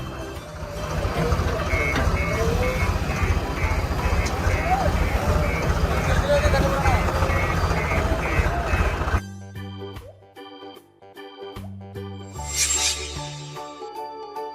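A backhoe at work on a construction site, a dense rumbling engine with rhythmic reversing beeps pulsing over it, before the noise drops to sparser beeps and a brief hiss.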